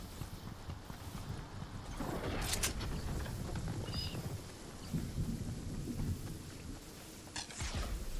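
Thunder crashes and rumbles over steady rain-like noise in a video game storm during a duos match, with a couple of sharper thunder bursts standing out against a constant hissing background.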